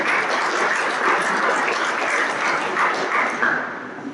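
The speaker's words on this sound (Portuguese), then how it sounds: "Palmas antecipadas ao nosso Roberto Castelo." Audience applause at a historical and geographical talk event in Brasília, a dense, steady patter of many hands that holds fairly even throughout and thins slightly at the end.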